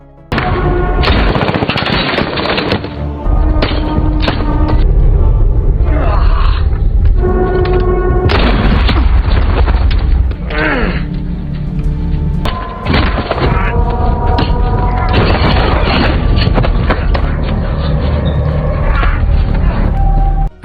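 Gunfire in a film shootout, loud and continuous for about twenty seconds, with repeated shots, booming thuds and rapid bursts packed densely under a constant roar of action sound.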